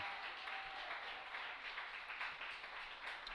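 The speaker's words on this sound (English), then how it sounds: "getting a huge applause by his teammates" Faint, distant clapping rises from teammates and spectators at a high school baseball playoff game as a pitcher leaves the field, a soft continuous patter lasting a few seconds.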